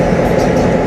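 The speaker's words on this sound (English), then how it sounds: "you can probably hear the train because it's sitting right here waiting to leave" Stationary train idling at a station in Santa Cruz, California, a loud steady engine rumble with constant hum and no break, heard close by.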